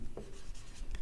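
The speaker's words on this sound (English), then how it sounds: "So let us write down." Pen writing down a permutation answer during a maths lesson, a steady soft scratching and rubbing that runs close and continuous for about a second, with no talk over it.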